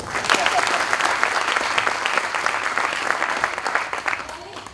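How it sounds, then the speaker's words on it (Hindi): Loud audience applause at an Indian patriotic culmination event, dense steady clapping from a large crowd that builds quickly and holds before easing off slightly. "क्या बात है, जोरदार तालियां होनी चाहिए।"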